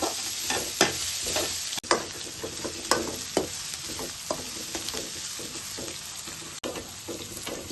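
Vegetables for a pasta masala, including cabbage pieces, fry in a pan with a steady sizzle while a utensil scrapes and stirs in repeated sharp clicks and taps, close and fairly quiet.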